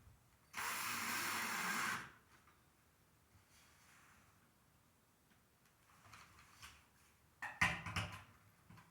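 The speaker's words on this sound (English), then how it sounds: "Set this last screw." A power drill drives a screw into an arched wooden door in one loud, steady whir lasting about a second and a half, followed by quiet handling clicks and a few sharp knocks.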